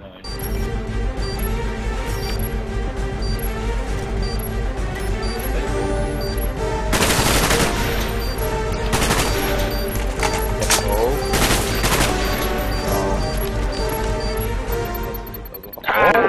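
Video game gunfire in a competitive shooter match, several sharp bursts of rapid shots cutting through a dense, constant bed of game sound, loudest in a cluster midway and tapering off before a final jolt.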